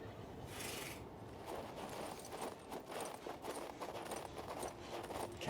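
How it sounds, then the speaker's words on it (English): Horse hooves clip-clop in steady rhythm during riding in the game King's Bounty II, a close, soft thudding over a rough ground texture. "Oh, you actually ride a horse?"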